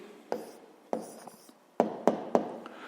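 A pen writes an answer by hand for a grade-five maths exercise, giving several sharp, close taps and short scratchy strokes in an uneven rhythm, with brief pauses between them.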